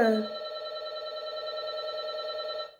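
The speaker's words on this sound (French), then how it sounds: "il y a quelqu'un qui sonne" A doorbell chimes indoors with a single sustained ringing tone, loud at onset and slowly fading over a few seconds, with no talk over it.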